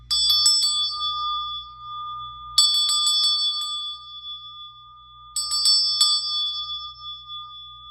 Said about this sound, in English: I'm going to go ahead and ring the solar plexus bell for you